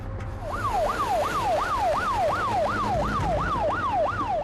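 A police car siren wails in a fast repeating up-down yelp, about ten even cycles, loud and close at an accident scene over low road rumble, no voices.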